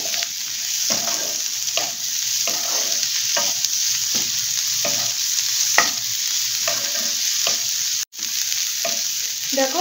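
Chopped capsicum sizzles in a pan while being stirred, with regular scraping strokes of a spatula about every second over the continuous frying hiss, close and clear, with one sharp knock near the end.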